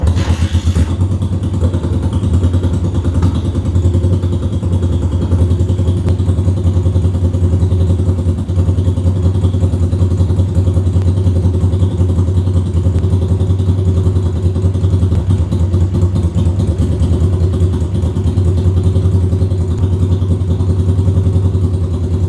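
A steady, loud idle from an old motorcycle engine that had sat unused for years, running continuously with an even low rumble and faint mechanical clatter, close by with no talking.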